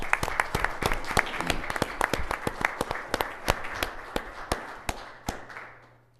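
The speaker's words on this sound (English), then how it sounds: "So first, let's give them a round of applause, folks." Applause at a county fiscal court meeting for national academic championship winners, a room of people clapping steadily with sharp individual claps standing out, thinning and fading near the end.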